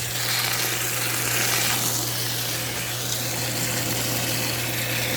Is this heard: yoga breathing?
no